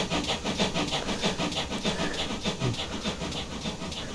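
Steam exhaust chuffs from a GWR Small Prairie 2-6-2T tank locomotive in Train Simulator Classic, a dense, rapid, rhythmic beat with a continuous rumbling roar underneath, loud and steady throughout.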